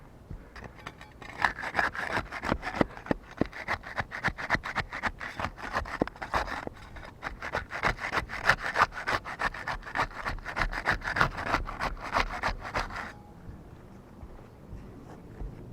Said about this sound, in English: We'll get started with the putty knife. We'll use that to unseal number 7 there.